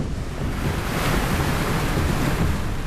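Rough seas off Ulleungdo slam against a shrimp fishing boat, making a loud, continuous churning wash mixed with gusting wind noise and no talking.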